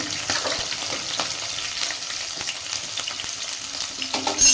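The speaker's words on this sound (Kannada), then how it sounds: "ಒಂದರಿಂದ ಎರಡರಷ್ಟು ಹಸಿಮೆಣಸಿನ್ಕಾಯಿ ಹಾಕ್ತೀನಿ ಇದು ಸ್ವಲ್ಪ ಫ್ರೈ ಆಗಲಿ" Green chillies frying in hot oil make a steady, close crackling sizzle with scattered pops and light spoon scrapes throughout, and no voices.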